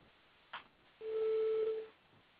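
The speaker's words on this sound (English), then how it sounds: "Did you notice that the sound started from being soft and it gradually became louder, and finally it tapers off to be soft again?" A pure synthesized tone with a sine amplitude envelope swells from soft to full, holds steady for about a second, then fades away, preceded by a brief soft click and otherwise alone.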